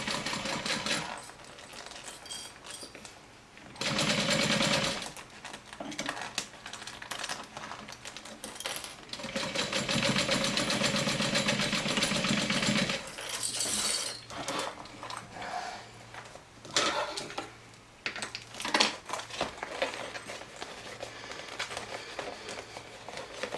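A sewing machine stitches through the layered fabric of a fanny pack, giving rapid mechanical running bursts of several seconds each, separated by short quiet pauses, moderately loud and close.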